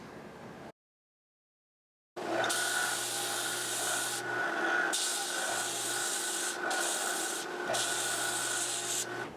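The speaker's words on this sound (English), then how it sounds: "Now we're just going to scrape it with a razor blade and work it down" A razor blade scrapes down a Les Paul guitar nut in a series of close, rasping strokes of varying length, separated by short pauses and preceded by a moment of silence.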